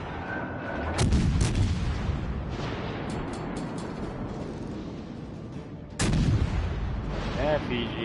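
Heavy naval guns fire in World of Warships, with two deep booming salvos several seconds apart over a constant rumble of battle noise and lighter scattered shots in between.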